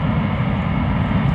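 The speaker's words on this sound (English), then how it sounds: "KLM flight 661 to Houston, Texas," A KLM Airbus A330-300 departs Amsterdam Schiphol Airport with a loud, steady, close-up jet roar and no voices.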